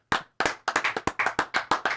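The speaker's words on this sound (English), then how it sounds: "Let's clap it up" A congregation claps hands for an arriving bishop guest at a church event, sharp close claps starting alone then settling into a brisk, steady rhythmic beat of about a dozen strikes.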